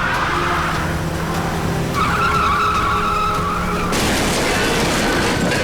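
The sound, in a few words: car skidding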